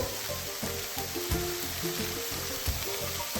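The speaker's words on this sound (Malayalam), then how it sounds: "ഇനി നമുക്കിത് ഇളക്കി സവാള ഒന്ന് വാടി വരുമ്പോഴത്തേക്ക്" Salted onions sautéing in a pan for Kerala-style kadala curry, a dense steady sizzle with a low rhythmic hum and occasional stirring knocks, close and alone.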